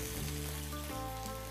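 Goulash with diced fire-roasted tomatoes sizzles steadily in a hot pan as it is stirred, a dense frying hiss that continues throughout with a low hum underneath and no talking.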